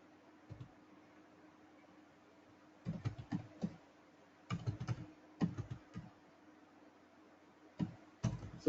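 Computer keyboard typing JavaScript code in a quiet room, short bursts of soft clicky keystrokes separated by pauses, close and fairly faint over a faint steady hum, with no talk.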